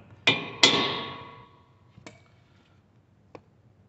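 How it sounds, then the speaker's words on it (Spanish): A flat screwdriver or chisel is struck with a hammer to bend a metal tab during a driver-side axle replacement on a 2013 Toyota RAV4, giving two sharp ringing metallic hits followed by two fainter taps, with no talking. "van a agarrar aquí un desarmador plano o un cincel y le vamos a golpear aquí"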